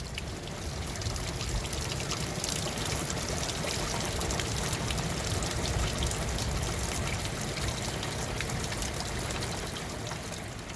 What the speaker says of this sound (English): It's raining. It's so loud.